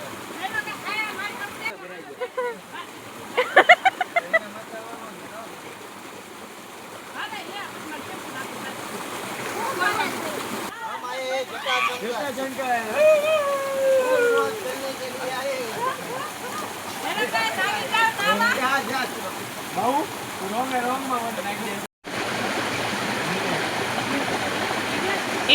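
Stream water flows in a steady, close rush at a bathing spot in Junagadh, continuing for the whole stretch while several people talk and call out over it.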